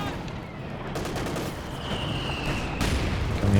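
Dense, continuous rolling gunfire and explosions from T-34 tanks in a strategy video game battle, loud and sustained without pause.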